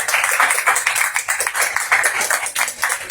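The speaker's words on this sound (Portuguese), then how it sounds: "Uma salva de palmas ao Senhor" A church congregation claps together in quick, rhythmic bursts, loud and close, with no talking.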